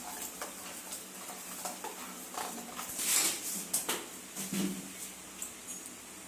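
A spoon scraping and clicking in a pot as salt and coconut paste are stirred into pumpkin buttermilk curry, soft irregular taps over a faint background sizzle.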